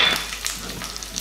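Cloves, ginger and garlic frying in a pan for a vegetarian festive thali, giving a continuous close hiss with small crackles throughout and no voices.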